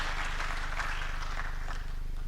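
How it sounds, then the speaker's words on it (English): Dense applause from an audience at the opening ceremony of Kenya Innovation Week 2024 in Kenya as a dignitary walks to the stage, a steady wash of many hands over a constant low hum. "Why don't we encourage him with a clap as he approaches the stage."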